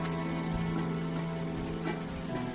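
Steady rain falling in the PS3 game Rain, a constant soft patter with faint drips and light knocks over a low hum, with no one talking.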